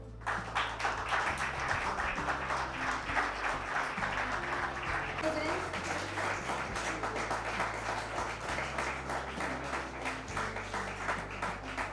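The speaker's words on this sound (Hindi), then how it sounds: "एक बार विजेता जी के लिए जोरदार तालियां हो जाए।" An audience at a Women's Day award ceremony honouring women achievers claps steadily for a winner, a dense patter of many hands under a low musical hum, with a voice faintly present.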